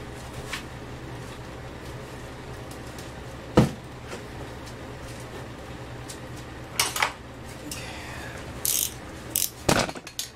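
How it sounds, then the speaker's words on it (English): A wrench working on an Ex-cell VR2500-1 pressure washer: sparse metallic clicks and clanks, a sharp knock early on, then a cluster of ratcheting taps toward the end over a quiet background hum. "Okay, I have a wrench."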